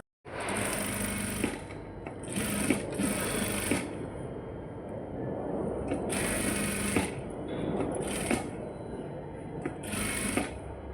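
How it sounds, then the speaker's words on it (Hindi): Sewing machine stitching a katori blouse along marked lines, loud rapid whirring in repeated bursts of a second or so with brief pauses between runs. "जो हमने निशान लगाया है वहाँ से हम इसको सिलाई कर लेंगे"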